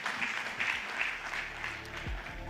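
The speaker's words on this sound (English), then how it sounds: "let's give Tecno a big applause" Applause from the audience at the Tecno Phantom V Fold 5G phone launch event, a fairly quiet, even patter of clapping from a crowd heard at some distance in a large hall.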